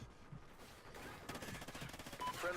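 Rapid automatic gunfire from a first-person shooter video game, bursts of fast repeated shots building toward the end at moderate level.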